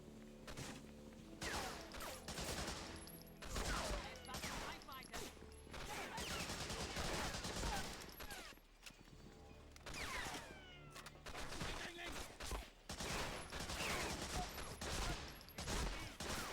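Gunfire from the PS2 war shooter Medal of Honor: Frontline, with dense rapid volleys and bursts of automatic fire nearly throughout and brief lulls between them, plus occasional crashes.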